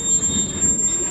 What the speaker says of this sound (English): as we arrive at the station, we ask that you remain completely seated until our train comes to a full stop.